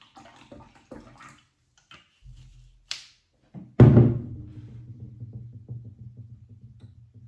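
Clean water is poured into a container for rinsing a hair strand. A few soft knocks and thuds come first, then a sudden close splash settles into a steady gurgling flow of water.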